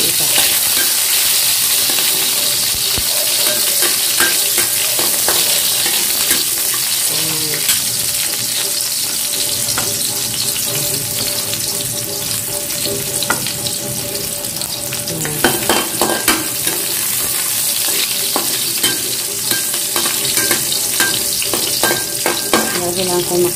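A metal ladle scrapes and clanks against a pan while sweet potato and chayote sizzle and fry, giving a steady sizzle broken by repeated irregular scraping strokes over a long stretch, with no talking.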